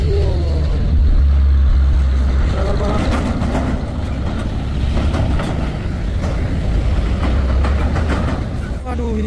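A trailer truck labours up a steep hill at Bukit Kodok, its heavy engine droning low and loud without a break, with people talking over it.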